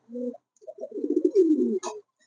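King pigeons on a pigeon farm give a short, soft cooing call, a brief low note followed by a longer rolling coo, close and clear with no other sounds.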